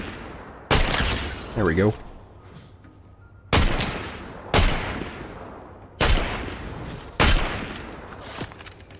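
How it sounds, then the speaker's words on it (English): Gunfire in a video game lays down cover fire as several sharp, loud shots with decaying tails, spaced a second or so apart, while a voice briefly speaks between them. "We gotta provide cover fire."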